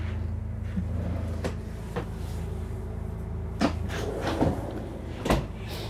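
Kitchen drawers in the counter extension of a 2024 Newmar Ventana 4037 RV open and close with several soft knocks and slides, close by, over a steady low background hum.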